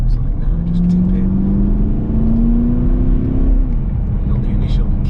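A remapped Porsche Cayenne 4.2 TDI V8 diesel pulls hard under acceleration, its steady engine drone rising in pitch over several seconds and then easing off, loud and close throughout, with a voice talking over it.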